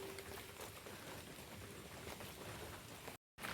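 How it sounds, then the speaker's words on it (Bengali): Steady soft patter of light rain falls continuously, a faint hiss with no talking, broken by a brief cut to silence near the end. "বৃষ্টি পোটা পড়ছে দেখতেই পাচ্ছ আর শব্দ হচ্ছে আস্তে আস্তে"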